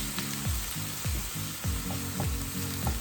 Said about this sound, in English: So keep your onions on medium or low. Don't brown your onions.